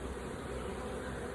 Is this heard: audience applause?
no